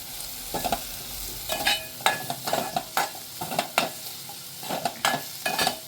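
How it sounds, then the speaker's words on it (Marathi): Dried Bombay duck fish, roasted and washed, is stir-fried in a pan with potatoes. A utensil scrapes and taps in quick repeated strokes over a soft sizzle, close by, with no speech. "आता हे बोंबील पण मी ह्याच्यामध्ये छान असे परतून घेते."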